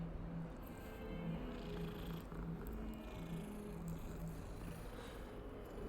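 A cat purrs while being petted in the video game Hogwarts Legacy, a low, steady rumbling purr that continues evenly throughout, quiet and alone.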